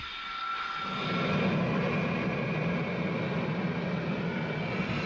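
An F-35 jet engine spools up in a hover pit, a broad rising roar that swells within the first second and then holds loud and steady with a high whine on top.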